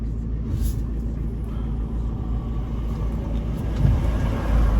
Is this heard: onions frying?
no